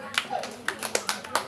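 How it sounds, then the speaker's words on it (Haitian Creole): Applause at a children's broadcast event sounds as a short burst of quick, close hand claps, about seven sharp hits in an uneven rhythm, mixed with speech. "S'il vous plaît, applaudissez Kewich."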